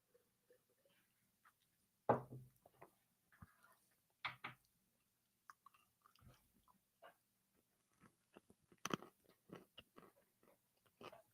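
Mouth noises of chewing and biting close to the microphone, a scatter of soft crunchy bursts at irregular intervals amid near silence, with no talking.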